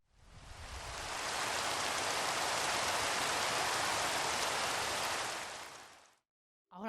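Steady, dense rain hiss in Minecraft fills the scene evenly for about six seconds, then cuts off abruptly into near silence.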